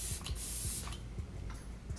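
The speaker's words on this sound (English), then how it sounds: "Just gonna give my face another spray again." Several short hissing bursts of a fine mist spray, close up, a few quick pumps in succession with brief pauses between them.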